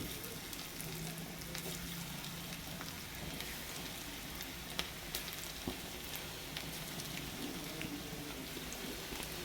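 Chicken pakoda frying in hot oil, a dense continuous sizzle and crackle with occasional small pops, steady and close throughout.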